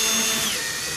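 A power drill bores a hole beside a wall stud during the building of a pull-behind camper, giving a brief, loud, continuous whine that holds steady and then tapers slightly.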